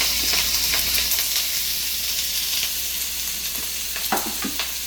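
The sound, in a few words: sautéing onion and green chillies in oil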